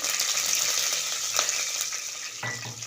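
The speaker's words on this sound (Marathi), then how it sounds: "मोहरी चांगली तडतडू लागली की नंतर पाव चमचा जिरे घालायचे" Mustard seeds and cumin crackle and sizzle in hot oil while tempering dal khichdi, a steady dense frying hiss with small popping crackles and a slight stir near the end.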